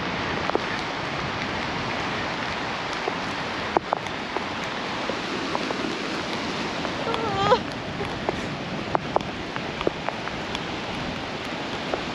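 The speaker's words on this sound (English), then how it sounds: "We're taking shelter from the rain." Steady rain hisses over a beach on Scotland's north coast, a dense continuous wash with scattered drips and knocks close to the microphone; no talking.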